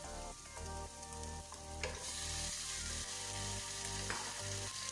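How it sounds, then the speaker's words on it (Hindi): A kilogram of beef frying in a pot with garam masala, a faint steady hiss of oil that swells slightly partway through, with soft stirring underneath and no voices. "इसको बहुत ही अच्छी तरीके से हमने फ्राई करना है"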